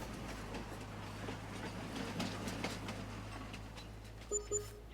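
A train running through farmland in Farming Simulator 22, a steady rumbling roll with a faint rhythmic clatter and a low constant hum, closing with a couple of brief louder clunks.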